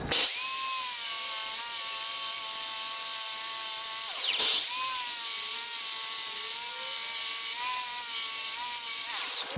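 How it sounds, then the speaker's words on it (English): A steady, loud high-pitched whine of a power drill with a Forstner bit boring into the back of an exotic wood wall clock, dipping briefly in pitch as it bites, then carrying on. "I'm gonna get a Forstner bit, and on the back I'm gonna drill out some space"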